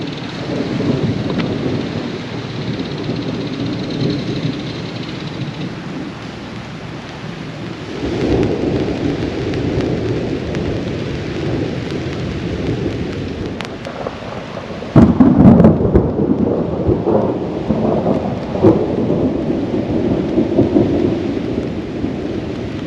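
A camping thunderstorm with steady rain drumming on a tent and rolling thunder that builds around the middle and cracks loudly near the end from a close strike, with wind buffeting the microphone throughout.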